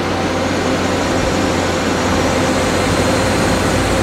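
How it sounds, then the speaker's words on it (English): A FEMCO HL 35 lathe spindle runs at 1200 RPM, producing a loud, steady, smooth mechanical hum and whir with no change in tone. "Crank up the spindle."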